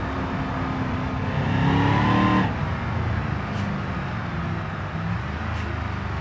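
Car engine in the driving game BeamNG, revving up then dropping as the transmission shifts, followed by a steady engine drone; loud and close throughout.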